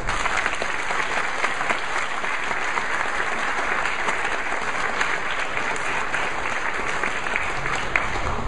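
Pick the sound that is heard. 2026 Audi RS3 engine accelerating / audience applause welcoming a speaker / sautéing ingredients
audience applause welcoming a speaker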